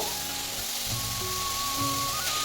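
Green chillies and chopped greens sizzle steadily in a hot pan of oil, a close, continuous frying hiss that carries through the whole stretch with no talking.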